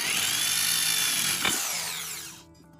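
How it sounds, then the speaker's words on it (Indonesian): A power drill fitted with a 6 mm bit, used in building an Innova air rifle into a bullpup, gives a loud, steady high whine that holds for about two seconds, then winds down and cuts off. "Kita langsung ganti mata bornya menggunakan mata bor 6."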